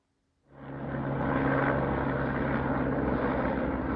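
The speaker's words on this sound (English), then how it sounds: "One of the sightseeing choppers going by." A sightseeing helicopter near Penticton, B.C., swells in over a quiet stretch of the Kettle Valley Rail Trail and holds as a loud, steady rotor and engine roar passing overhead.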